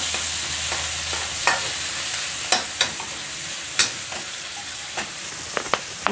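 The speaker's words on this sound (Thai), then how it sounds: "ขอเอาหมูลงก่อนนะคะ ผัดหมูให้หดตัวนิดหน่อยนะคะ" Pork stir-frying in oil in a wok, a constant close sizzle broken by sharp metallic clinks and scrapes of the spatula at irregular intervals, with no talking.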